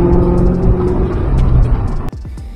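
A Ford Mustang Terminator Cobra revs hard to heat its tires, a loud, steady engine rumble sustained for about two seconds before dropping sharply and trailing off into a lower, fading growl.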